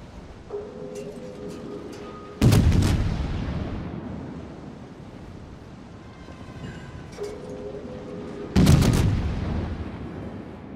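Naval guns firing from warships in World of Warships, two heavy booming salvos about six seconds apart, each a loud close blast with a rumbling decay, preceded by faint tonal game cues over low ambient noise.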